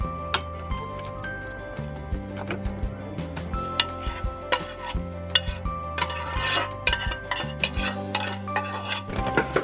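Cooked apples for homemade applesauce are pressed through a metal colander with a turning crank, producing rhythmic scraping and clinking of metal against metal, steady and close, with occasional knocks.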